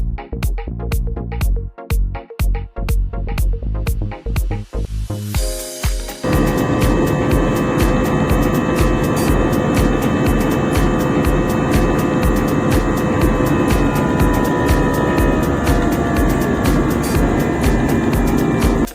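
Inside an airliner cabin climbing to cruising altitude over Cebu in the Philippines at sunset. A series of short rhythmic thumps gives way to a loud, steady, broadband engine and airflow roar that continues unbroken.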